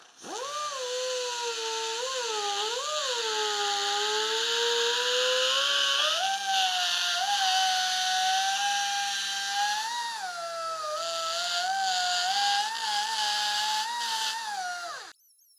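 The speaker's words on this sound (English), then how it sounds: "This is a carbide burr." A carbide burr in a rotary tool grinds a 3D printed rain/air vent part for a backdate Porsche 911, a close, steady high whine that rises and sags with load, continuing without a break for about fifteen seconds.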